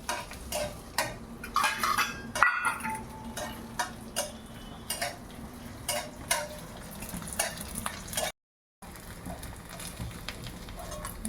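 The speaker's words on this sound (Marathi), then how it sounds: "असं थोडं थोडं टाकून डिंक तळून घ्यायचा" Edible gum being fried a little at a time in ghee in a pan, with a soft sizzle under repeated scraping and stirring clinks of a spoon against the metal pan, plus a brief pause.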